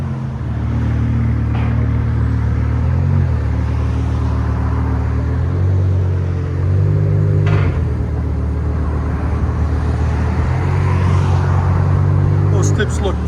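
BMW engine idling up close, a steady, deep, lumpy rumble that holds for over ten seconds with slight rises and dips in pitch and a few small clicks on top.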